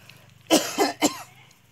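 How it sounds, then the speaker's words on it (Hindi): Three short, sharp coughs in quick succession from a person with a cold at home, close and clear over a faint low background hum, with no speech. "सर्दी खांसी भी थोड़ा हो रहा है फ्रेंड"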